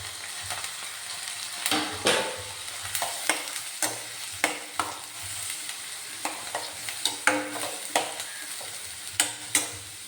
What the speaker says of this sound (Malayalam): രണ്ട് സവോള കട്ട് ചെയ്തതും രണ്ട് പച്ചമുളക് കീറിയതും കൂടിയാണ് അതും കൂടെ ചേർത്ത് കൊടുത്ത് നന്നായിട്ടൊന്ന് വഴറ്റിയെടുക്കാം